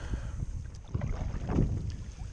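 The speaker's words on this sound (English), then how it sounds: "I came into the wind. Wind is causing some current" Wind blowing across an open boat while fishing for white perch and stripers, a low rumbling buffet against the microphone with faint water slaps, brief and moderate in level, no talking.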